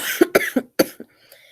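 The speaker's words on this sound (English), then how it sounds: "when I start talking, I start coughing" Someone coughs in a rapid burst of about six dry, close coughs over a second and a half, then goes quiet.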